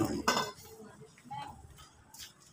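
Dishes and a cooking pot clink and clatter a few times in a quick burst, then fainter knocks follow, fairly quiet and close, with people talking in the background.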